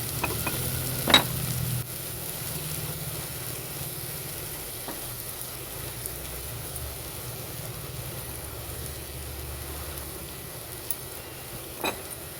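Papdi flat beans sautéing in a pan for a curried vegetable dish, a steady low sizzle running throughout with a couple of brief sharper crackles; no talking.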